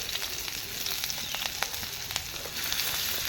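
Chopped green chili and ginger sizzle steadily in a pan for a classic Bengali rui fish recipe, a close, continuous frying crackle with small pops and no talk.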